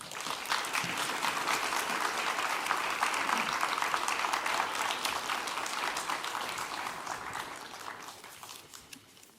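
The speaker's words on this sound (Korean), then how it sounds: "힘찬 박수로 우리 선교사님" A church youth congregation at Sunday worship bursts into strong, sustained applause to welcome a missionary, a dense roar of many hands that holds steady for several seconds before tapering off.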